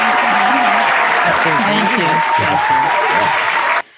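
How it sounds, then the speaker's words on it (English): Studio audience applause welcoming two guests on a talk show about a thrift shop, a dense steady burst of clapping that runs loud for nearly four seconds before cutting off, with a voice speaking over it. "So let's have a nice round of applause, everybody at home"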